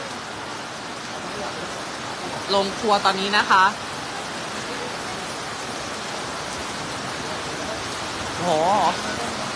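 Heavy rain pours down in Nan, Thailand, around an outdoor kitchen, a steady dense hiss that fills the scene while someone speaks briefly over it.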